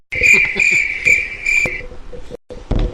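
Cricket chirping sound effect played on a radio show, loud rhythmic pulsed trilling for under two seconds, then fading into brief low noise and a short silent gap before a low thump.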